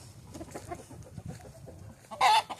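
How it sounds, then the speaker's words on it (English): Chickens clucking softly on a farm with free-ranging birds, followed by a loud, close rooster call near the end. "Our rooster, one of many."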